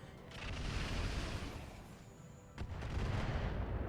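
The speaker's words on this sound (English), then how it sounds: "Striker hits with another missile." Missile strikes in the RogueTech mod of BattleTech: two rumbling explosive impacts, the second a sharp, sudden hit about midway through, heard over a steady background of battle noise at moderate volume.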